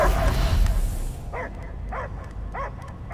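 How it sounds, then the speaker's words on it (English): A dog barking in the video game Guardians of the Galaxy: three short, distinct barks spaced evenly apart, following a loud rumbling game soundscape that fades out. "I hear only barking"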